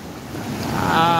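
Storm surge waves at Nato Port in Sagñay, Camarines Sur, a roaring wash of surf under heavy wind buffeting, swelling louder as a wave breaks close by.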